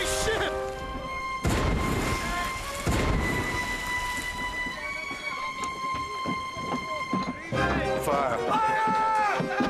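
Ship cannons fire during a naval battle in a Doctor Who audio drama, with heavy booms at intervals over sustained music and dense battle noise, voices mixed in.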